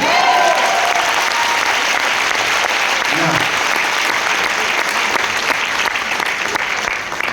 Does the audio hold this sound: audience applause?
yes